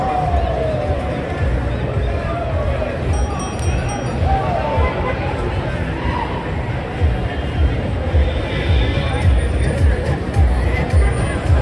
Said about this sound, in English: Last crowd coming through.